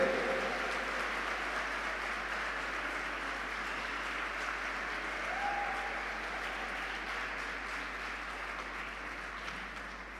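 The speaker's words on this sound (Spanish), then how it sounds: "Alguien tiene que regalarle un aplauso a las mujeres." A church congregation applauds for the women, a soft, even wash of many hands clapping that holds at a steady level throughout and sounds somewhat distant.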